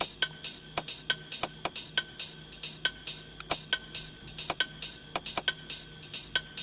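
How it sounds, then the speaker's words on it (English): Chopped-up drum loop of hi-hats and ride cymbal hits playing alone in a steady, busy rhythm, with crisp bright ticks and washy cymbal strikes repeating throughout at moderate level. "a lot of hi-hats and rides and all this cool stuff"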